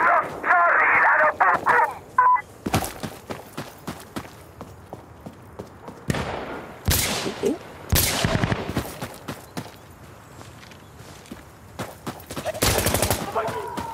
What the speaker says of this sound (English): the Vector is an amazing gun in this update